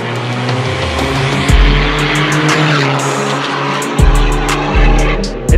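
A Stage 3 tuned 1.9 TDI diesel car revs hard, its engine note climbing in repeated surges with sharp shift drops, loud and close, alongside tire squeal.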